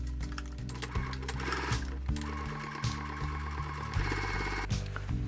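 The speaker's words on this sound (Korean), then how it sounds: "상침 재봉 해주시면 됩니다." A sewing machine topstitching fabric for a small tote bag runs in short mechanical bursts, whirring and stopping at intervals over a steady tonal background, with no voices.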